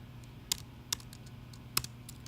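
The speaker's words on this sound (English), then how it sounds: "So I start to type H2." Code being typed on a computer keyboard comes through as a few faint, sparse key clicks over a quiet room hum, with three sharper taps standing out.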